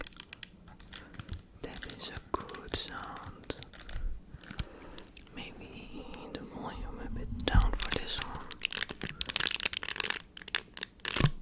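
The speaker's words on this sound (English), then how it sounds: "you can guess I'm eating chocolates" Chocolates are eaten close to the mic, with crunchy bites, chewing and wrapper crinkling in irregular bursts under soft whispering throughout.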